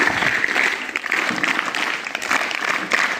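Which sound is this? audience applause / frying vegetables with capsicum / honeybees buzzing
audience applause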